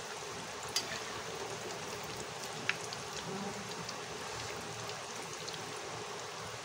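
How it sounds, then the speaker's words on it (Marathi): Mixed-pulse vadas frying in hot oil, a steady soft fizzing hiss throughout, faint and even, with a couple of brief sharp pops. "वड्या आपल्याला तांबूस रंगावरती तळून घ्यायच्या आहेत."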